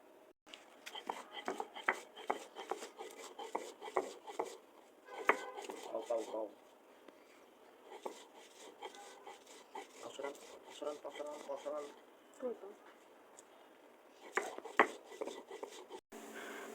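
A young girl grinds ingredients into Bangladeshi bhorta paste, likely on a stone grinding slab, making repeated rubbing and scraping strokes that rise and fall in bursts, fairly close, with occasional short knocks and no talking.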